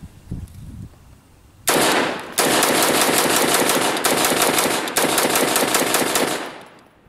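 A gun fires a string of 20 rounds after being dropped from a helicopter, rapid loud sharp reports in two long bursts with a brief pause between, close by, after some faint handling noise.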